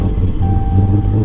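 A Dodge Challenger SRT Hellcat with built heads and a cam, starting up in Florida, its engine settling into a loud, deep, lumpy idle with a thin whine riding on top.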